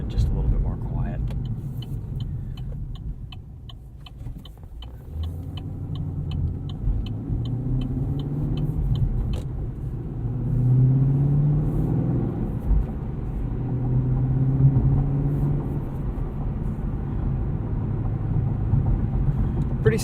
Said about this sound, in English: So here's an example of an acceleration in Tour.